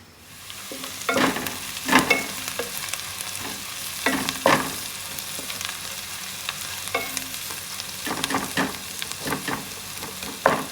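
Onions sautéing in a pan for Nagercoil-style mutton biryani, a constant soft sizzle broken by regular scraping strokes of a spatula every second or two, close and with no talking.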